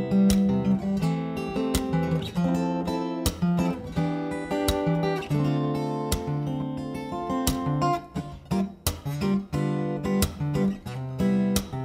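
Acoustic guitar strums rich jazz chords in a steady rhythm, punctuated by sharp percussive slaps on the body, played up close with no talking.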